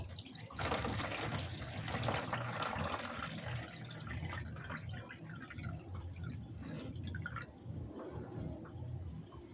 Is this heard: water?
yes